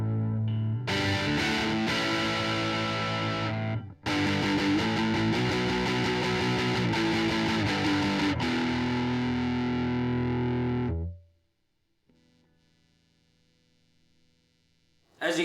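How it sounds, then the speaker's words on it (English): An electric guitar through a Boss DS-1 distortion pedal plays loud, sustained, heavily distorted chords for about ten seconds, then cuts out, leaving a faint hiss and hum of pedal noise. "I have thrown in the DS1 distortion pedal,"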